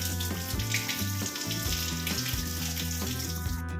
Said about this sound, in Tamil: நல்லா வாஷ் பண்ணி எடுத்துடலாங்க